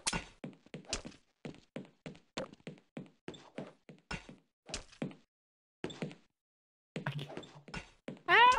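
Repeated knife stabs from enemies in the Half-Life game, a steady series of short dull thunks and whacks at a fairly even rhythm, close and moderately loud, with brief gaps and a louder burst at the end.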